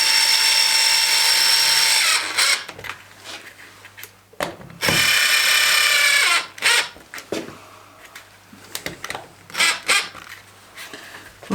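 Power drill driving wood screws in a basement workshop, a few separate high whining bursts of a few seconds each, close and loud, with clicks and handling noise between them.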